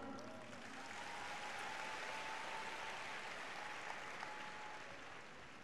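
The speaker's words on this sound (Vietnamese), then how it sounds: "Một tràng vỗ tay thật lớn để tôi cảm ơn quý nhân của đời tôi," Sustained applause from a seated audience at a talk, a dense, even wash of clapping that rises slightly and holds, heard from some distance.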